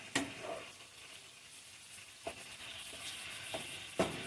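Seasoned meat browns in a pan with a faint, soft sizzle and a few light knocks from stirring, quiet and close.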